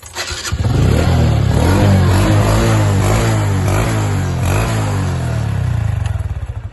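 A TVS ladies motorcycle fitted with push-to-start fires up and settles into a steady, loud, close idle with a continuous low engine drone and light clatter, with no talk over it.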